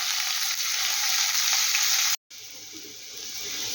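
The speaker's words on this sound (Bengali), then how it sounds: "পেঁয়াজটাকে একটু ভেজে নেব আমি।" Onions fry in a pan with a loud, continuous hissing sizzle. The sizzle cuts out for a brief moment, then carries on steadily.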